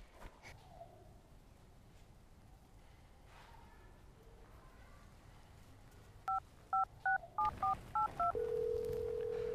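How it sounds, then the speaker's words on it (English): Telephone number being dialed, a quick run of about seven electronic keypad tones in an uneven rhythm, then a steady tone starting right after, over a quiet indoor background. "You need to call that number right now."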